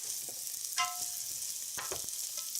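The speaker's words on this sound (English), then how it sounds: "now it's time to slide our veggies in. I'm going to stir that up." Vegetables are stirred in a hot pan for a shrimp stir-fry, a steady sizzle with a few scraping stirs of the spatula, close and without speech.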